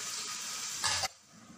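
Prawns are added to a cooked, reduced spice paste and stirred, giving a steady close sizzle with a short louder burst of frying hiss as they hit the pan, then a quieter sizzle.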